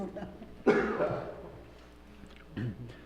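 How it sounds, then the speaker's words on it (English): One sharp, nearby cough bursts out during a council meeting, followed by a second rougher throat sound a couple of seconds later, with faint voices murmuring underneath. "I got a cough."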